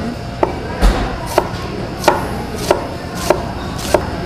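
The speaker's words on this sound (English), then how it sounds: "you cut the onion very thinly" A knife slices thinly through an onion on a cutting board in a kitchen, with seven crisp, evenly spaced chops that land about every two-thirds of a second, close and distinct, with no one talking.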